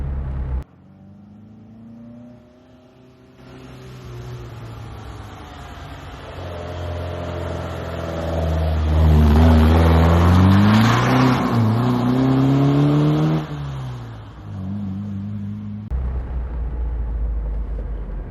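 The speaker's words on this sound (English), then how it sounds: "as you can hear, it sounds beautiful even in this first generation" A Fiat 124 Sport Coupe engine idles, then revs up in rising and falling surges before settling back to a low rumble; close and loud, no talking.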